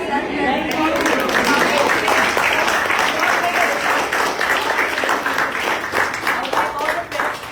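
Parents gathered for a protest press statement applaud together outdoors, a steady sustained burst of clapping from a group that holds at full strength and then thins slightly toward the end.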